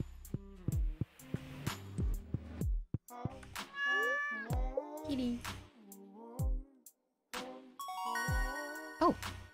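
A cat meows repeatedly in a series of short, clear calls, some rising and drawn out, close by, with a few brief chimes or ringtone-like tones mixed in near the end.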